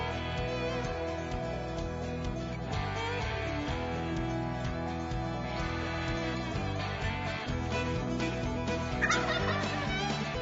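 A Merriam wild turkey gobbles in Wyoming over constant dense background noise, the calls fairly muffled and blended into the steady din.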